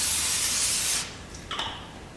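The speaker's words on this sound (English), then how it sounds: "I'm also going to spray my skillet with a little bit of cooking spray" Cooking spray hisses from a can onto an uncoated skillet in one steady burst of about a second, close and fairly loud, followed by a faint short clatter.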